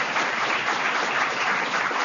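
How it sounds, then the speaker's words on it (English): Students at a national leadership conference give themselves another round of applause, a thick, sustained roar of many hands clapping together, loud and even throughout. "Give yourselves one more round of applause."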